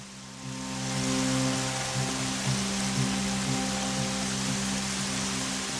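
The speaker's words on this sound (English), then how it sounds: "Oh, why does it have to be raining?" Steady rain in the video game Horizon Zero Dawn, a broad continuous hiss that holds evenly throughout over a low droning game ambience with no one talking.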